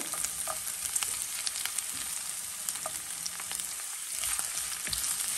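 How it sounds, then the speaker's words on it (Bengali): Chopped onions frying lightly in a pan, a steady soft sizzle with faint crackles and occasional stirring scrapes, close and quiet with no voices. "একটা প্যানে একটু অনিয়ন হালকা করে একটু ভেজে নিচ্ছি"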